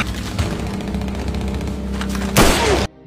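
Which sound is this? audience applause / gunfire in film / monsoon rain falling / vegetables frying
gunfire in film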